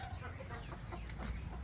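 Meat ducks on a farm holding around a thousand birds, heard as a busy chorus of overlapping quacks and clucking calls over a constant barn background, fairly close and continuous.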